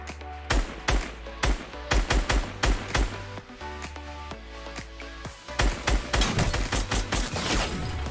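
Gunfire in the video game Fortnite: a series of sharp, loud shots in irregular rhythm, some in quick pairs, with a heavy low thump under them and no talking.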